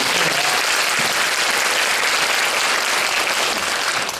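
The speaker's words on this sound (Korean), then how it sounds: "박수 한번 부탁드리겠습니다" Loud, dense applause from a concert audience at a school education event, a continuous wash of clapping filling the whole stretch with no voices over it.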